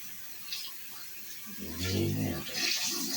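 Water runs from a tap at home: a faint trickle at first, then a louder gushing rush that swells near the end of the short stretch.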